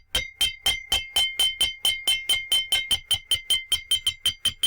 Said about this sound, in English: Strike the frying pan with the spoon like this.